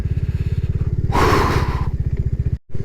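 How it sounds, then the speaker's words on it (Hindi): Two motorcycles pass by on a mountain road in the Darma Valley of Uttarakhand, with a steady close engine rumble that surges into a loud, broad roar as they go past and then drops away, ending in a brief cut. "तो फाइनली अभी 2 बाइकर्स मेरे सामने से निकले।"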